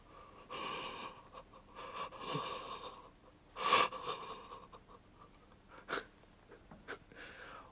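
A voice imitates heavy, rapid breathing with a series of loud, close, breathy pants and gasps, uneven bursts with one sharp peak near the middle; no words spoken.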